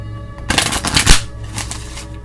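Tarot cards being shuffled during a reading, a short burst of riffling flutters lasting about a second, close and fairly loud, then a few softer card flicks.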